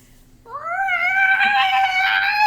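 A person imitates a cat, giving one drawn-out, rising meow that swells and holds for about two seconds, close and fairly loud.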